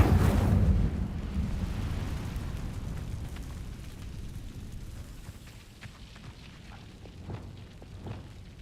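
Incendio fire spell cast in Hogwarts Legacy, a loud deep whooshing boom at the start that fades into a long rumbling roar, with faint crackles later.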